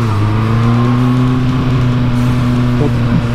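A Honda CB350F four-cylinder motorcycle revs while being ridden on the road. Its engine note is loud and droning and climbs and holds steady, with constant wind and road noise close by.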